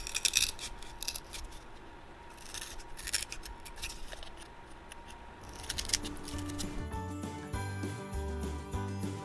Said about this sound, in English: this like little wooden tag that I'm gonna cut into the shape of a star